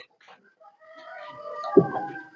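A hen clucks softly nearby, a few short throaty notes rising out of near quiet.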